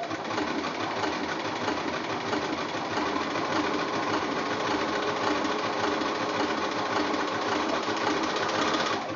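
Domestic sewing machine running steadily as it blanket-stitches a curved edge on a quilt block, a continuous close whirring hum with no pauses or talk.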